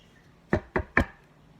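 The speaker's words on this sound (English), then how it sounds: "Knock, knock on the door." Three sharp knocks on a door in a quick, slightly uneven rhythm, close and crisp against near silence.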